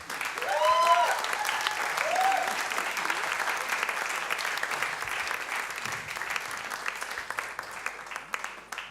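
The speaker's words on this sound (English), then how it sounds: "Give her a big round of applause." Evening show audience applauds a presenter, a broad steady wash of many hands clapping in a hall, with a few brief voices rising in the first seconds before the clapping carries on alone, gradually thinning.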